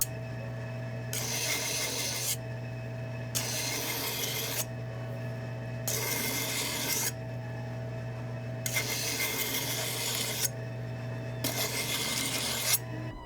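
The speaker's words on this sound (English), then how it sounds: "I'm going to use this green wheel, roughly around 180 grit" A badly damaged chef's knife is ground against a coarse 180-grit green sharpening wheel to thin the bevel, making five or six harsh rasping passes separated by short pauses, with the wheel's motor humming steadily throughout.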